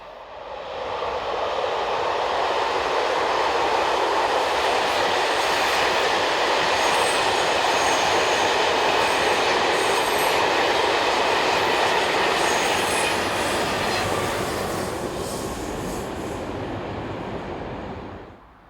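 Belgian commuter train from Bruxelles, locomotive 2132 at the rear, rolling past near Wanze; a loud, steady broadband rumble of wheels on rail sustained for most of the pass, easing off toward the end.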